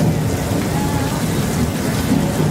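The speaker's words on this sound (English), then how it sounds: "A demonstration of a fake thunderstorm at a Mexican village was quite impressive, complete with its flash flood." Staged thunderstorm on an outdoor Mexican village set at Universal Studios, with sprinkler water thrown high into the air. A steady, loud roar of pouring rain and splashing water with deep low rumble runs continuously throughout, with no voices.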